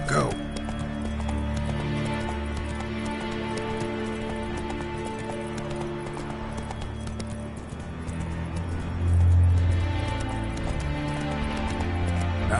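Geralt's horse Roach galloping in The Witcher 3 game, a continuous rapid clip-clop of hooves with a brief snort or whinny near the end, steady and close, under game music and a spoken voice.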